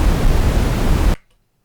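Loud, steady Brownian noise from a Rust WAV noise generator, a dense deep rumbling hiss that fills the first second and cuts off abruptly into silence.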